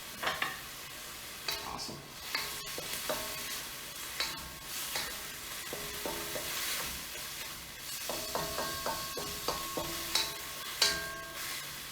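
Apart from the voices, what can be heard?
stirring and frying pork in a pan for mapo tofu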